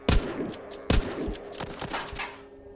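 Gunfire in the zombie shooter game The Walking Zombie 2: two loud, sharp shots ring out, followed by a scatter of quieter rapid shots and echoing impacts that trail off, with no talking.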